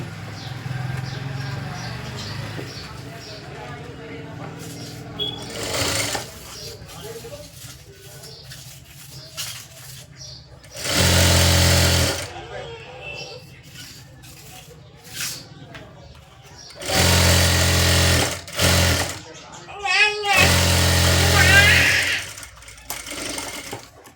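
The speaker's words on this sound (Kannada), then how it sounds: "ಸ್ಟ್ರೈಟಾಗಿ ಒಂದು ಹೊಲಿಗೆ ಹಾಕ್ಕೊಂಡು ಮೇಲ್ಗಡೆ ಒಂದು ಹೊಲಿಗೆ ಹಾಕೋರಿ" A sewing machine stitches a lined blouse in several loud, close bursts of rapid whirring, separated by quieter stretches in which someone talks and faint cooing birds are heard in the background.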